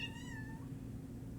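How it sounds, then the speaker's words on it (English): A single short meow from a cat, faint and a little distant, over a low steady background hum. "That's my cat, guys, if you can hear him."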